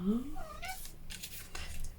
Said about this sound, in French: On ne s'occupe pas d'elle, donc ça miaule.